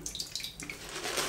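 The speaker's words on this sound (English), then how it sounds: "add a little bit more water there." Water is added to a shaving brush, splashing and trickling briefly, a soft wet pouring sound close up that swells toward the end.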